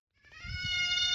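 Young weaned goat kids bleat on a farm, one drawn-out, rising cry building from a quiet start into a loud, steady wail close by, with light shuffling underneath.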